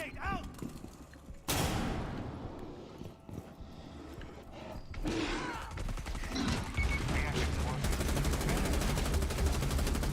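Stun grenade and gunfire in the video game Rainbow Six Extraction: a sharp bang followed by dense, continuous bursts of shooting and combat noise, loud and busy throughout, with voices talking over it.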